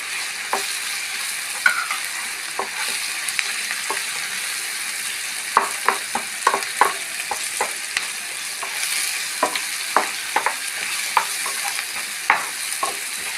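Turmeric and chili powder spices fry in a pan for a green peas stir-fry, a steady sizzle punctuated by frequent sharp scrapes and clicks of stirring, close and alone without voices.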